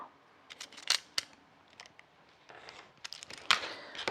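A utility knife cutting through material with several short, crisp slicing strokes scattered across the clip, some louder and sharper than others, heard close up with no talking.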